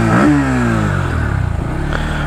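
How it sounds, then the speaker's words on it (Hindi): A Bajaj Pulsar NS160 motorcycle engine revs up sharply and then settles into a steady, loud exhaust drone close to the mic, with a slight clatter underneath. "गोप्रो मोड पे मैं गैस आप लोगों को एग्जॉस्ट नोट एक बार सुना दे रहा हूँ।"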